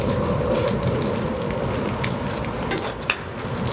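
Fresh spinach sautés in a hot pan with bacon and dates, giving a loud, steady sizzle and crackle throughout. Stirring scrapes and light clinks sound under the frying, and nobody speaks.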